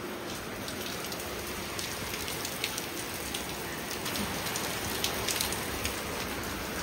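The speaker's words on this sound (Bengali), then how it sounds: "এত জোরে বাইরে বৃষ্টি হচ্ছে" Heavy rain falls outside in an even, hissing patter with scattered drops. It is heard from a little distance, stays fairly quiet throughout, and there are no voices.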